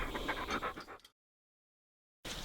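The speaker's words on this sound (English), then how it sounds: "Hi doggy." A dog pants and whimpers up close in short rapid breaths, then falls silent before a brief return of the sound at the end.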